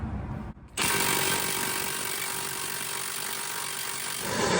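A power tool works loose a pinch bolt on a BMW E46 suspension, giving a loud continuous rattling whir that starts after a brief pause and runs steadily to the end, close up with no talking.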